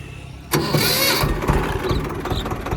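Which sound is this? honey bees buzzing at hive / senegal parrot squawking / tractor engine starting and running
tractor engine starting and running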